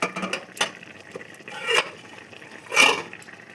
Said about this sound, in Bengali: এবার ঢাকনাটা তুলে দেব।